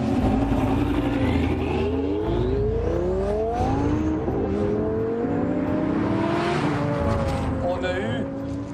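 A tuned, heavily boosted Lamborghini race car accelerates hard, its engine revving up through rising gear sweeps, loud and close, with a roaring pass and shifts over steady road noise.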